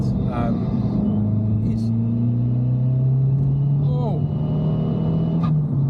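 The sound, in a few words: Abarth 595 Competizione engine with turbo during drive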